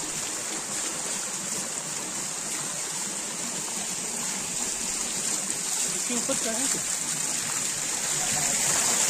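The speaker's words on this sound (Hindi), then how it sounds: "पूरा ऊपर से पानी गिर गया पूरा ऊपर से देखो" Water pours down from above at a waterfall and stream in the Tamiya hills near Chhindwara, a loud, steady broadband rush heard up close, with someone talking over it.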